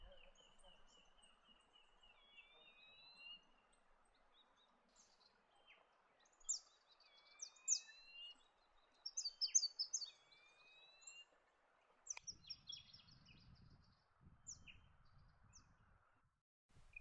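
Diamond firetail calls in dry forest and open grassy woodland of the New England region: thin, high, drawn-out whistles and short chirps, some rising, spaced over a faint background with a few low rustling thumps near the end.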